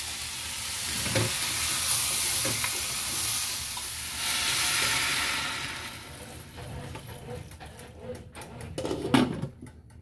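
Rice cooks down and dries out in a pot on a two-burner stove, giving a steady close sizzle and hiss throughout, with a few light knocks and clicks toward the end.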